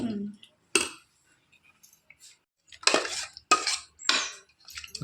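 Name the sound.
stirring tomato chutney in a kadai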